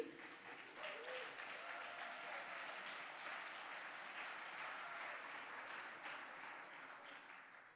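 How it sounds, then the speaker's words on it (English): An audience at a conference session gives a long, sustained round of applause for a team, a steady, evenly textured clapping heard from a little distance for several seconds. "a big round of applause to the team"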